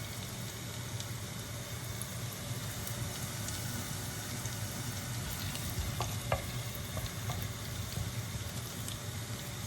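Crab roe and shallots frying together in a pan, a steady low sizzle and crackle lasting throughout, with occasional faint clicks and pops, close and even with no talking.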